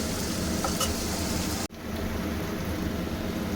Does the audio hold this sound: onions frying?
yes